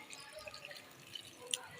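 Half a cup of water pours into a ridge gourd (turai) curry in a pan, a soft, faint continuous trickle with scattered small drips and splashes close by.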